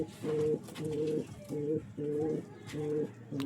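Mangalgiri Kalach and Mokai pigeons coo in a steady series of low, rounded calls, about six evenly spaced bursts repeating close by with faint background noise.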